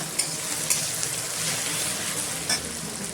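Tomato and mutton fat fry in a pan with a steady, close sizzle and crackle, a few soft stirring knocks breaking through the hiss.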